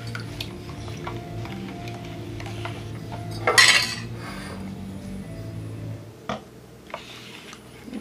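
A utensil scrapes and clinks against the container as melted soy wax is stirred for candle making, with one loud rasping burst midway and a sharp knock near the end over a faint background hum; no voices.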